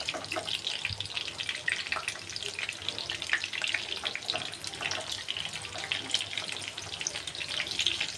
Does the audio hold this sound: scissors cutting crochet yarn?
no